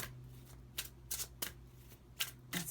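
A deck of tarot cards is shuffled by hand in a quiet room. About six crisp, brushing bursts of riffling come at an uneven rhythm, close and moderately soft, with no talking.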